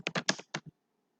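Java code is typed on a computer keyboard: a quick burst of five or six close key taps, then quiet.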